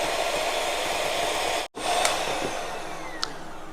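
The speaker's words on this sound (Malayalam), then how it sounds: "ഇതെന്തായാലും നന്നായിട്ട് ബീറ്റ് ചെയ്തെടുക്കണം." An electric beater whips eggs and sugar for cupcake batter, a steady, fairly loud whirring motor drone that cuts out briefly midway before resuming.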